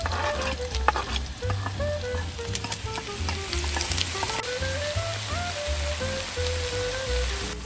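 Onion, garlic and pasta sizzle in a pan at an outdoor fishing camp, a dense continuous crackle with frequent sharp pops and stirring clatter, close and fairly loud, with no talking.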